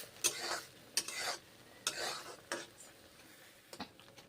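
Salted semolina with water and green chillies cooks in a pot as it is stirred, producing about five loud scraping strokes separated by short quiet gaps, with no talk.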